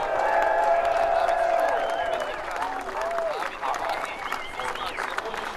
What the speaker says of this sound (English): A big cheer, I'm sure, for Liam Hezemans.